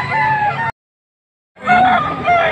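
A young rooster at a fowl sale in Angeles, Pampanga crows in two loud, close bursts separated by a short silence, its strained harmonic call rising and falling.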